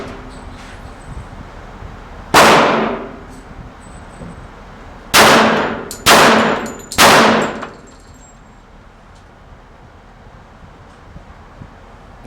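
Three quick pistol shots at an outdoor range at 15 yards, one loud crack then a tight pair after a pause, sharp and close with a light wind behind.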